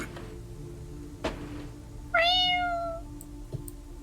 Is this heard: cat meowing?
yes